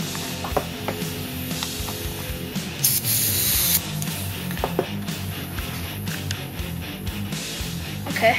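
Air hisses into a dirtbike tire through its Schrader valve in one short, loud spray burst, with quiet mechanical clicks and handling noises before and after it.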